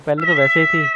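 A cat meows in the Pumping Simulator 2 video game, a loud, close, tonal call broken into a few short pulses, with someone speaking Hindi over it.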